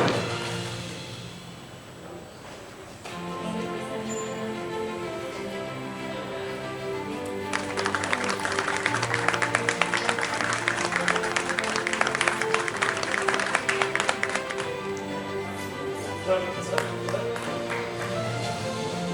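Audience applause at an awards ceremony: a quiet room murmur builds into sustained, dense clapping from a sizeable crowd for several seconds, then tapers to scattered claps under a faint voice.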